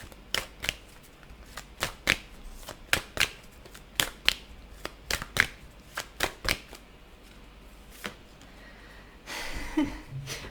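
A deck of playing cards being handled and shuffled for a card reading, with a series of crisp, close slaps and riffles at an uneven pace, ending in a longer rustling shuffle.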